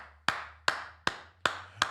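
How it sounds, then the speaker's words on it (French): One person claps slowly in applause: five crisp, evenly spaced claps, each with a short ringing tail, over a low steady hum. "Oh là là, oh, j'applaudis."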